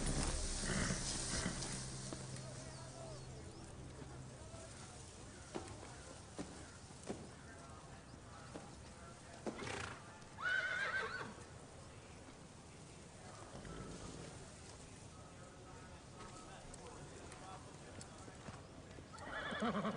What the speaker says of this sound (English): That's where the horses are.